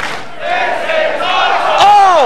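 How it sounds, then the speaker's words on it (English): Wrestling fans screaming and chanting inside the Stampede Pavilion during a tag team match, a loud sustained roar of crowd voices with rising shouts swelling toward the end. "As we hear the crowd in the legendary Stampede Pavilion, yeah, screaming, this is awesome"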